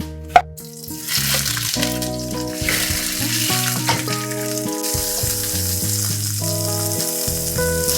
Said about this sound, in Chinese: 我们先把这个茄子给它炒一炒。